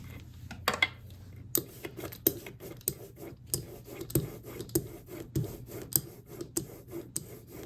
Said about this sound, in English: Any of these stiff litho inks is going to require manipulation with the spatula to loosen it up